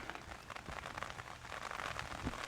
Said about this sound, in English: Can you guys hear the rain now?